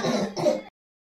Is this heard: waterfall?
no